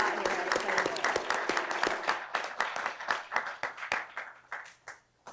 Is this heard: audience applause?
yes